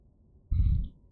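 A fart blasts into a microphone during a livestream as a loud, low, rumbling burst lasting about half a second. A sharp noise follows right after, with no talking.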